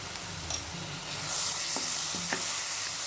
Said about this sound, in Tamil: வெங்காயம் நல்லா வதங்க ஆரம்பிச்சிருச்சு